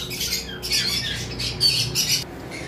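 A pair of green Fischer's lovebirds give a quick series of sharp, harsh squawks in close, rapid bursts over a few seconds.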